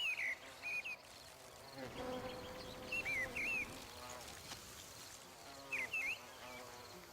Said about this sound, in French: dépendent pour leur pollinisation d'insectes comme les abeilles, les bourdons ou les papillons